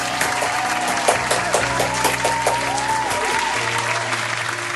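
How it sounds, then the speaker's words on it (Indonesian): A crowd at a children's church service claps steadily, dense applause holding at an even level for several seconds, with no talking over it. "Kasih tepuk tangannya dulu dong."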